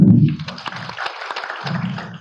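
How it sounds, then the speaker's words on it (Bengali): Applause from an audience at a college event marking an AI and robotics internship at DAGC College, Dakshin Dinajpur: a dense burst of clapping that starts strong, dips briefly midway, then swells again, heard close and without talk. "একটু হাততালি হবে"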